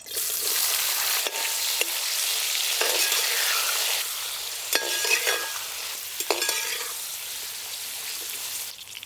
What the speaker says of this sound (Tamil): இப்போ எண்ணெயில் போட்டு வதக்கி எடுத்துக்கலாம்.